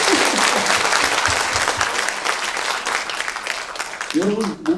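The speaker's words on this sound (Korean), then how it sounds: "오, 박수." Steady applause fills the whole stretch, dense clapping from a crowd, with a voice cutting in briefly near the end.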